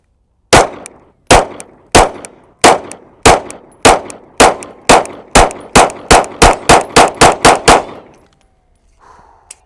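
Canik METE MC9 Prime pistol firing 115 grain rounds: about seventeen loud, sharp shots, evenly spaced at first and then quickening into a faster string near the end, followed by a brief quiet tail.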